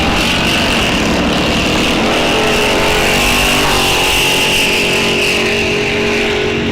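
A 1970 Cuda and a 1969 Camaro drag racing side by side at a bracket series event, engines roaring loud and continuous with rising revs throughout, filling the whole stretch at close range.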